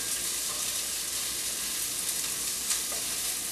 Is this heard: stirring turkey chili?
yes